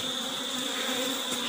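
Honey bees swarm around a split beehive in Jamaica, their dense, steady buzzing close and continuous with a sustained high hum and no speech over it.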